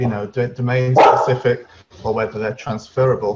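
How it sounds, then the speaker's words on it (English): A dog barks in short, repeated bursts close to the microphone in a home, overlapping a man's continuous speech. "Excuse the dog. He's gonna bark in the background while I talk"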